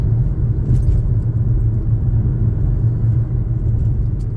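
Steady car engine rumble inside a moving car on a residential road with parked cars, a constant low drone and no clear gear-change break, with no talk.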